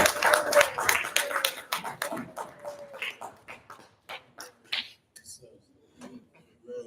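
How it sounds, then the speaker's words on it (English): An audience at a symposium claps for an arriving panel facilitator, starting as a brisk burst of claps that thins into scattered, fading handclaps over several seconds, with a brief voice under the early clapping. "can we give him a round of applause?"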